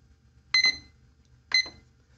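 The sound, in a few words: timer being set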